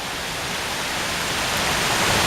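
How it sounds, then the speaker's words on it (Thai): Steady, ordinary out-of-season rain falls after a hailstorm in Mae Taeng, Chiang Mai, a dense, even hiss of drops close by that grows slightly louder, with no voices. "ตอนนี้จะเป็นฝนธรรมดาแล้ว"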